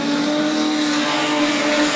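A Mitsubishi Sigma production sedan races around the Collie track, engine droning loud and steady at high revs as it holds speed, with a broad roaring wash over a sustained tonal whine.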